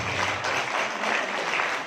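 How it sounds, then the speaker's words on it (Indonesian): A school campus expo audience in East Java gives a short, even burst of applause, many hands clapping steadily for about two seconds without speech. "Tepuk tangan untuk kami"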